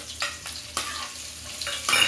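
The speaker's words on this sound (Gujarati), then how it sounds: "ઝીણી સુધારેલી ડુંગળી નાખવાની છે" Finely chopped onion hits hot spiced oil in a pan for kaju gathiya sabzi, sizzling steadily and up close while a spoon scrapes and stirs in regular strokes.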